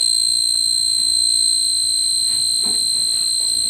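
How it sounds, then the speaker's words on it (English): A flood detection system's steady, high electronic buzzer tone drones continuously without pause at an open dam gate, loud and constant, with faint background rumble underneath. "the buzzer is going on"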